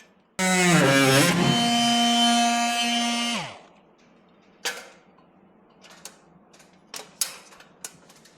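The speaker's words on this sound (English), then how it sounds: "I'm just going to take my oscillating saw and I'm going to make 4 incisions, 1 in each direction" An oscillating saw cuts an incision into a wall for an exhaust fan installation, giving one loud, close, buzzing burst of about three seconds, followed by faint scattered clicks and knocks.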